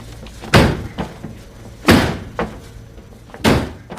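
A locked interior door that will not open, struck or rattled in three heavy, close thuds about one and a half seconds apart, each with a smaller knock after it, with no voices.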